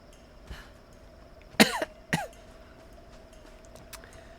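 Two sharp coughs ring out close by, the second following about half a second after the first, with a faint throat sound earlier and quiet room noise around them, during a Tomb Raider (2013) game session.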